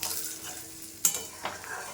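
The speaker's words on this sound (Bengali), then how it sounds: "একেবারে একসঙ্গেই দুটোকে ভেজে নিলাম" Two eggs frying together in a pan hiss with a steady close sizzle, broken by a couple of brief sharp crackles.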